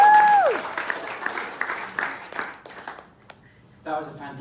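Audience applause in a pub for the MC of a politics evening on Australian housing, a burst of clapping under a tonal sound that fades, thinning to scattered claps before a voice begins near the end.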